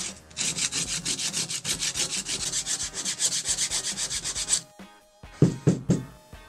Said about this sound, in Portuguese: vai botando no bloquinho, envolvendo o bloquinho assim, e vai lixar a superfície